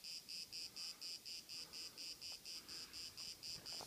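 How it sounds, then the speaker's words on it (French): A cicada sings outdoors in loud, regular pulsing bursts, roughly four per second, a steady buzzing chorus with no talk over it. "C'est une cigale."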